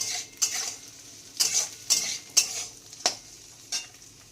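A spatula scrapes and stirs rice with fried carrots, beans and peas in a pan, giving a series of sharp, evenly spaced metallic strokes over a soft sizzle.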